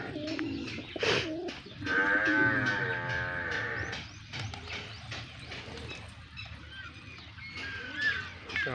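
Pigeons coo in a rural farmyard setting, low warbling calls repeating through the clip alongside a drawn-out animal lowing and steady outdoor background noise.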